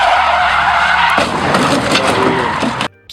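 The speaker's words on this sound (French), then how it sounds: "Une voiture roulant à vive allure entre dans une zone et heurte un obstacle en dérapant." A speeding supercar skids with a loud, sustained tire squeal and engine roar, then hits an obstacle just before the sound cuts off abruptly near the end.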